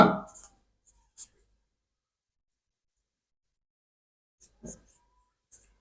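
Pen or pencil writing by hand on paper while drawing a diagram for a school maths pattern exercise, heard as a few short, faint scratchy strokes separated by a long near-silent gap.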